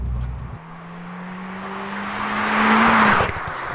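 A 300-horsepower four-cylinder engine in a Renault Megane RS Trophy-R pulls hard under acceleration, its tone climbing steadily and growing louder before easing off near the end, heard alone from inside the car.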